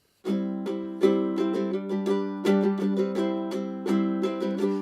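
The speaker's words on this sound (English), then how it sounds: "They're basically straight eights and just a few extra up strums if you want to." Ukulele chords are strummed close up in a steady straight-eighths pattern of down strums with a few extra up strums. The bright, even strikes ring out with no voices.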